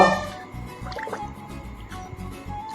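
Water splashing and dripping as a container is dipped and filled in the Thamirabarani River, close by, with gurgling and sloshing throughout.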